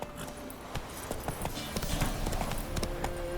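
Roach the horse galloping in The Witcher 3, with a fast, continuous clatter of hooves across the whole stretch, close and fairly loud.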